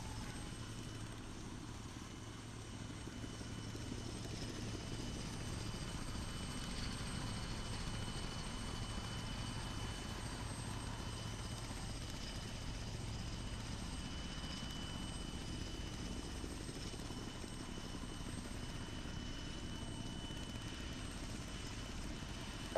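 A UH-1Y helicopter flies in the landing pattern toward a runway, its engine and rotor making a steady, moderately loud droning hum that holds even throughout, with no voices.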